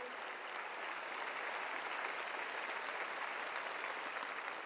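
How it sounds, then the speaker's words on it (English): Sustained applause from a large crowd at a University of North Carolina Tar Heels basketball event, a steady dense wash of clapping that holds at an even loudness throughout. "Now let's give a round of applause for everybody out here."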